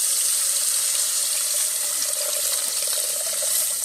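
Tamarind and salt water being strained in a home kitchen while making fish kulambu, a steady continuous trickle and splash of liquid, close and fairly loud, with no talking.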